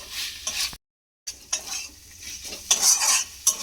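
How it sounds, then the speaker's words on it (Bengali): A chicken and cauliflower patty filling being stirred in a sizzling pan, with close scraping and clinking strokes in uneven bursts and a brief silent gap. "এইটাকে এবারে এইভাবে একটু ভালো করে নাড়াচাড়া করে নেব।"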